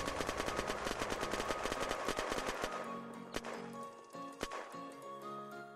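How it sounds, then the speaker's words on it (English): A Zubeknikov rifle in Unturned fires a rapid, steady burst of about thirty rounds, loud and close, and then stops. A few separate sharp cracks follow amid fainter clinks and rattles. "So now we are going to shoot with the Zubeknikov. We are also going to shoot 30 bullets."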